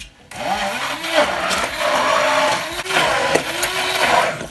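A kitchen blender whirring as it blends oats for homemade oat milk, motor pitch rising and falling in uneven surges, loud and close.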